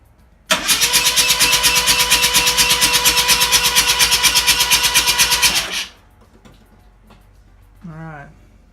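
An RX 323 car engine under restoration cranks over with its spark plugs removed and oil added, giving a steady, rapid, loud starter churn for about five seconds before stopping, followed by a brief voice.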